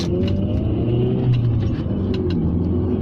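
A Rover 600ti turbo car pulls hard in third gear, its engine droning loud and close with a rising rumble heard from inside the cabin.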